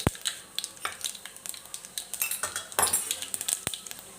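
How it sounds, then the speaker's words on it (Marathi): Mustard seeds and cumin crackle and pop in hot oil in a close pan, with dense irregular snaps mixed with metallic utensil clatter. "इथं आता तेल गरम झालेले आहे तर मी त्याच्यामध्ये मोहरी टाकून घेते त्याच्यानंतर जिरं"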